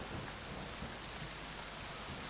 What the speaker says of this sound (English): So you start hear thunder, and you see the odd flash of lightning in the sky.